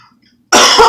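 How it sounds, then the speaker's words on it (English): A single harsh, close cough from a sick woman at home bursts out abruptly after a brief quiet moment. "Because I'm just sniffling, coughing,"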